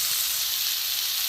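Chopped boiled egg white pieces frying in spiced masala, a steady close sizzle that holds evenly throughout with a small clink at the very end.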